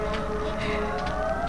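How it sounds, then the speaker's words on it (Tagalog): A fire truck siren wails in the distance, a sustained steady tone over a constant background hum. "nakabati ako sa sirena sa bumbero sa malayo"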